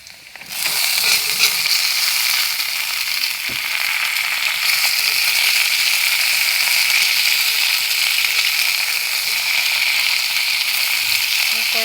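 Onions and vegetables fry in hot oil in a pan with a steady, loud sizzle that starts just after the opening moment and holds evenly to the end, with no voices.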